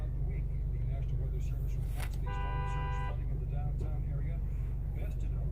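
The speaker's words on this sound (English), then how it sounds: "Who's beeping the horn?" A car horn sounds once for about a second amid steady idling engine rumble, with voices talking in the background.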